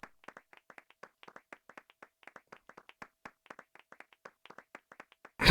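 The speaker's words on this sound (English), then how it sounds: "Look at him clapping." Crisp, close hand claps from a character in Final Fantasy VIII Remaster repeat in quick uneven bursts of two and three, alone against silence, ending with a sudden loud hit.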